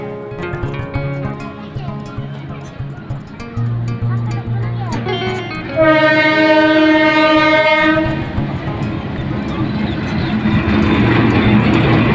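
A train engine at Jaria railway station rumbling and clanking, then a long, loud horn blast from about six seconds that holds for around two seconds, followed by continued engine noise with voices in the background.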